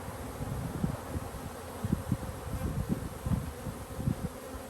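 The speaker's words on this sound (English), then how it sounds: "Had a good strong population of bees." Honeybees buzz in a dense, steady drone around an open hive in a backyard apiary, with louder pulses as individual bees pass close, and nobody speaks.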